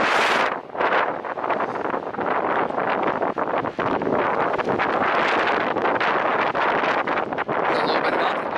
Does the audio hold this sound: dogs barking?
no